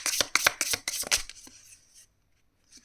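Tarot cards are riffle-shuffled and bridged, a quick run of crisp, close flutters in rapid bursts over about a second and a half, then a soft settle into near silence.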